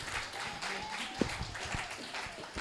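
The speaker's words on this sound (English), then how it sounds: "So can we clap for them?" Scattered applause from a conference audience honoring the speakers, uneven clapping with a few sharp individual claps and some voices murmuring underneath.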